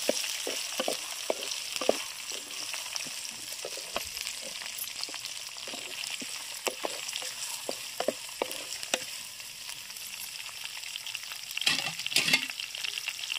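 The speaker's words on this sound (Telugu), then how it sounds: "పచ్చిమిర్చి వేగదాకా ఇవి ఇట్లా కలుపుకొని అంటకుంటా చూడాలి" Green chillies frying in oil in a pan on a village kitchen stove, a steady close sizzle with regular scraping stirs and light taps of the spoon throughout, a louder burst of crackling near the end.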